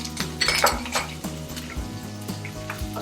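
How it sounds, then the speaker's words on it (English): Kashmiri dum aloo curry stirred in a pot, a spoon scraping and clinking against the metal in steady strokes with a faint sizzle underneath, fairly close and with no talking. "And give it a stir."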